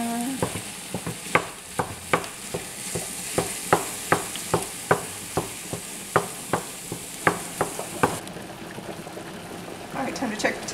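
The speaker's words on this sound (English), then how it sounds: "our onion and garlic are just about perfect for us to add the ground beef" Lean ground beef with onion and garlic sizzles steadily in a pan, a spatula scraping and tapping in an even rhythm roughly every half second, close and clear, for a shepherd's pie filling.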